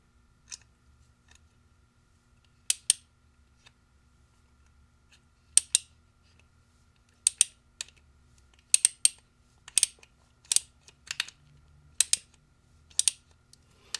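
A single-piece titanium ratcheting multitool clicks as it tightens. Sharp, crisp clusters of ratchet clicks come in short bursts, close and clear against a quiet background, with no talk.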